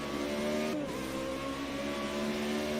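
Race car engine in Project Cars 2, a steady sustained drone held at high revs with a brief pitch shift near the start, like a gear change, continuous and loud throughout.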